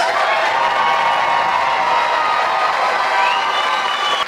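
A large crowd cheers, whoops and claps steadily for Vietnam veterans at a shipboard ceremony on a cruise ship, the dense roar holding at an even, loud level from start to finish with no pauses.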